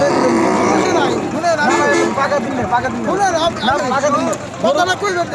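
Cows at the Aricha cattle market, where cows are sold with their calves, moo in several wavering calls close by, overlapping with a dense babble of people talking.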